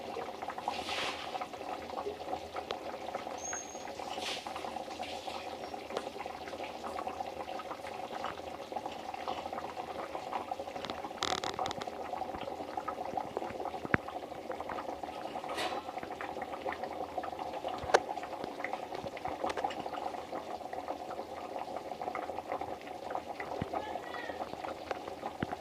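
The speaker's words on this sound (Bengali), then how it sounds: "গ্যাসের দম একদম জোরে করে দিয়ে এভাবে 5 মিনিট ফুটিয়ে নিন।" Potato curry gravy bubbles over a high gas flame in a steady, soft, low simmering burble, with faint cat-like meows and light background noises scattered throughout.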